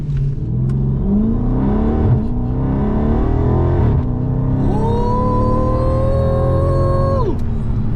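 A Dodge Charger Scat Pack accelerates hard in traffic, its engine climbing through revs in a loud, continuous roar with a rising whine toward the end before easing off.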